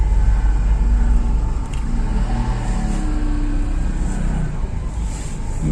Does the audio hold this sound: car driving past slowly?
yes